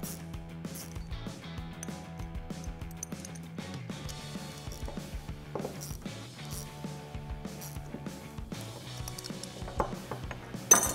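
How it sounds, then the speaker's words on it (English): An 11 mm ratcheting wrench and socket tighten a nylon locking nut on a Baja Designs roof light bar bracket for a 2021-2022 Ford Bronco, giving a long series of quick close ratchet clicks over a faint tonal background. "to tighten this down, we're using our 11 millimeter wrench and socket"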